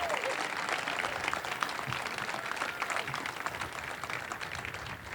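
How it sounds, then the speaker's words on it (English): Continuous applause from a university celebration crowd honoring a student, steady and fairly full, with the clapping slightly distant and no clear speech over it. "So another round of applause for her,"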